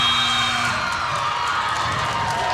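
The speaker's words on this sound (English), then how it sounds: "I've never heard a home crowd cheer that loud for a loss that big" A home crowd at a high school boys basketball game in a gym, Cedartown Bulldogs at Southeast Whitfield Raiders, cheers loudly and steadily with whoops and shouts after a final three-pointer, sustained throughout.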